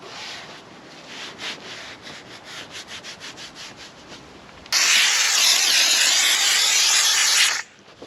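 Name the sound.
steam cleaner cleaning Pontiac Trans Am interior surfaces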